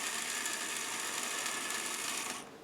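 A Meccano Multimodels 20 model set floating crane from 2004 runs its motor, gears and pulley to move the grabber up and down, giving a steady, faint mechanical whirr that holds evenly before cutting off near the end.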